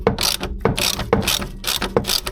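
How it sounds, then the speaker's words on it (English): A 17mm spanner ratchets on an anti-roll bar link of an Alfa Romeo 156, giving five close, crisp bursts of clicking at a steady pace, each with a short gap between. "let's undo the anti-roll bar link, which is again a 17mm spanner"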